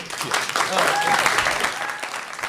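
Audience applause at a radio station press conference with a band, a continuous patter of many hands swelling and then easing, moderately loud, with voices talking over it.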